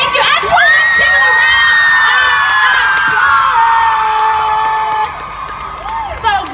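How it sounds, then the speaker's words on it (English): A crowd at Beautycon LA 2018 cheers loudly with shrill whoops and shouts. The voices are close and overlapping, and the cheering holds strong before easing near the end. "round of applause"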